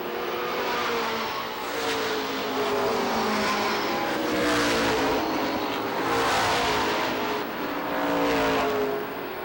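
Race cars roar around the oval at Lee USA Speedway, engines rising and falling in repeated loud passes through the turns, with a steady broad rumble and no talk.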